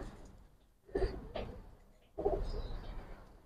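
Pigeons in a loft give low, soft cooing calls in two or three short bursts separated by quiet gaps, close by and fairly faint.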